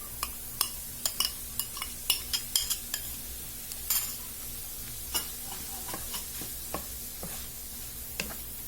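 Egg frying and being stirred in a pan while making gobi rice, quiet sizzle under a string of sharp utensil clicks and scrapes against the pan, steady and close, with no talking.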